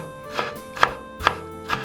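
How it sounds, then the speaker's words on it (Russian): A knife dices bell pepper on a board in four sharp, evenly spaced strokes, close and crisp. "Сначала вот так разрезаю на полоски, затем разворачиваю поперек и кубиками."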